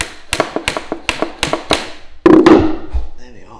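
Hammer tapping, six evenly spaced sharp taps in quick succession followed by a heavier strike with a ringing rattle, close and clear, no talk.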